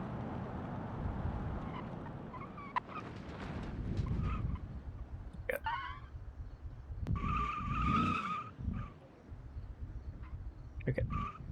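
Tires squeal and skid as a car brakes hard in BeamNG, the screech rising over a low engine rumble mid-clip, with quieter road and engine noise before and after.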